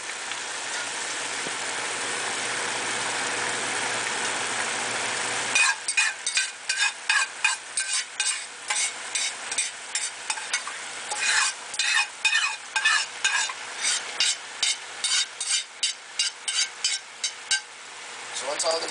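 Noodles for sayur campur are tossed in a pan in a rapid run of rhythmic scraping strokes over a frying hiss, following a steadier sizzle at the start, with a voice briefly present.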